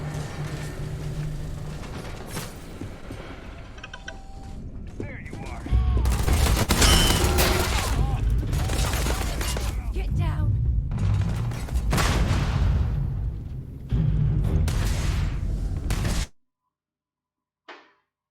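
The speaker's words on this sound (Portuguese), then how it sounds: "Os caras estão atirando em mim." Sustained enemy gunfire in the video game Starfield, loud overlapping bursts of shots and booms that intensify midway and run almost continuously before cutting off abruptly near the end, with faint talk under the fire.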